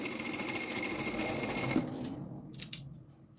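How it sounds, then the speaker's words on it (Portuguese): A sewing machine stitches a seam on a preschool backpack with a fast, steady whirring chatter, loud and close, that stops abruptly partway through, followed by a few faint handling sounds. "e vamos fazer aqui uma costura. Da parte de baixo, está bem? A largura do calcador."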